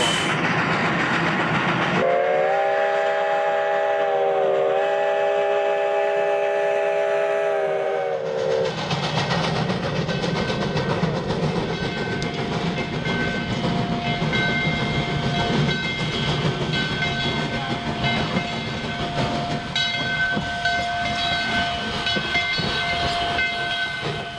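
A Virginia & Truckee steam locomotive sounds a loud, sustained whistle, then works hard at heavy throttle with rapid chuffing exhaust and rolling rail noise, close and loud.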